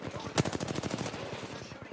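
Fast, evenly spaced automatic gunfire from a firefight in the battle royale shooter Apex Legends, a steady rattling burst of roughly twenty shots at moderate distance, opened by one sharper, louder crack.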